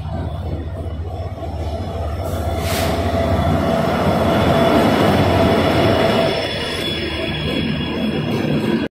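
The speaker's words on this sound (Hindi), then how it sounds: "train faba" A train arriving at a station, its low steady rumble building and rolling on throughout, with a faint metallic whine riding above and a brief hiss partway through.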